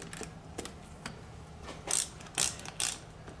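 Ratchet clicks in short bursts while snugging the throttle body boot connections on a Yamaha R6 motorcycle, three louder clustered bursts near the end after quieter ticks, close and alone.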